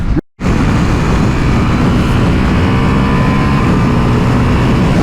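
A 2024 BMW M1000 XR or 2024 Ducati Multistrada V4 RS accelerating hard on a highway, a loud sustained engine roar buried in heavy wind rush, after a brief cut near the start.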